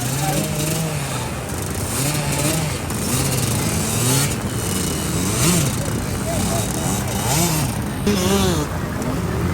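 Small 85cc motocross motorcycle engines whine and rev repeatedly, rising and falling in pitch as bikes race past during a motocross race, with an announcer talking excitedly over them.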